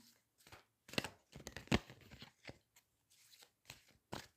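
A deck of tarot cards is shuffled by hand in quiet short bursts: soft, close riffles and slaps broken by brief pauses, with no voice.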